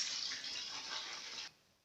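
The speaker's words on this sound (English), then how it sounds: "So now I'm gonna add my 2 liters of water to the already well mixed" Two liters of water pour steadily into a homemade air freshener mixture, a close, continuous gushing hiss that stops abruptly near the end, with no voices.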